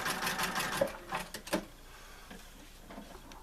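A sewing machine runs in short bursts as it zigzags back and forth over basket cording, whirring briefly then stopping, quiet and close with no voices.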